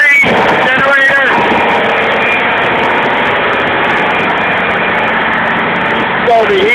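Number 3 generator on the ship Pacific Producer runs in the engine room with a dense, constant mechanical roar that stays close and loud throughout, while a voice speaks briefly near the start and the end.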